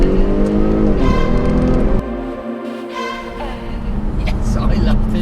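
A Jaguar F-Type 3.0 V6 sports car engine hums and revs while driving a twisty country road, dropping briefly during a gear change before pulling strongly again.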